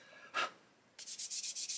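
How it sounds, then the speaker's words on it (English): Plastic being sanded by hand with a 400 grit sanding stick: one short scrape, then a quick run of about seven close, rhythmic rasping strokes. "all I'm doing really here is sanding that bit that I've just cut off."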